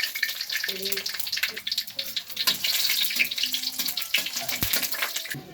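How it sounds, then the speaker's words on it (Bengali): Bay leaves and cinnamon sizzle in hot oil for a spiced vegetable and chicken khichuri, a steady close frying hiss and crackle throughout with faint clinks of a utensil. "তেল গরম হয়ে গেছে, তেজপাতা দিয়ে দিচ্ছি, দারচিনি দিয়ে দিচ্ছি"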